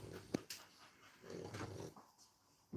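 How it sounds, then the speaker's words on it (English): A dog growls and pants while being let outside, with low rumbling bursts and a few sharp sounds, heard up close at moderate volume with no speech. "Let me put the dog out, which causes a noise."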